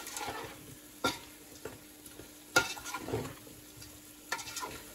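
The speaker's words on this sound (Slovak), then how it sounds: "Papriku stačí možno nejakých 30-40 sekúnd so zemiakmi orestovať" Potatoes and paprika sautéing in a pan: a soft, steady sizzle with occasional clinks and scrapes as a utensil stirs the contents, quiet and close.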